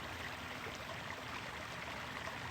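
Steady rushing of flowing water, like a stream, fills the clip as a constant faint wash of sound with no voices.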